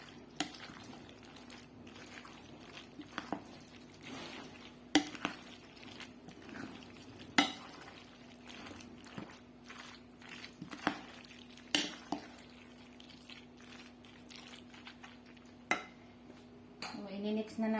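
A utensil stirs and mixes chicken macaroni salad in a bowl, with soft repeated clinks, scrapes and wet patter under a steady low hum and scattered sharper taps.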